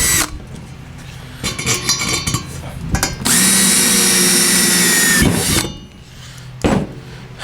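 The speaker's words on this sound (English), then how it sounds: "Alright, so I'm going to go ahead and just drill some holes in this." A power drill bores holes in a Midway Pac-Man Cabaret mini arcade cabinet. The high motor whine comes in bursts of a second or two, the longest runs about two seconds, with clunks and handling noise between them.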